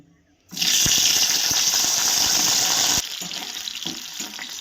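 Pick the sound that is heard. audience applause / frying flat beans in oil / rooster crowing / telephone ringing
frying flat beans in oil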